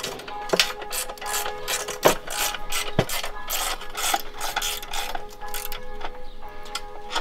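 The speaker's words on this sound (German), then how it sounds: "jetzt fangen wir an, die unteren Schrauben einfach anzuziehen" Screws being tightened on a raised garden bed frame, a steady run of fast ratcheting clicks from the tool with a few sharper knocks, close and continuous over a faint hum.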